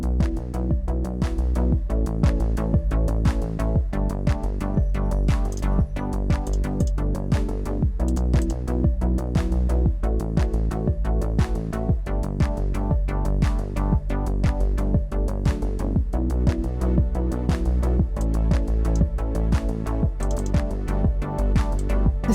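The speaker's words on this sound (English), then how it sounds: "Yeah, I have started making a piece of music. It's currently sounds very repetitive" A work-in-progress game music piece plays on a loop with steady, repetitive plucked notes and a constant low bass, even and continuous throughout with no voices.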